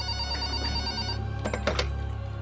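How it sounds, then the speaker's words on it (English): A desk telephone bell rings in two quick bursts over a steady low hum, fairly close and clear, with no one speaking. "I nearly jumped out of my skin when the phone on my desk rang."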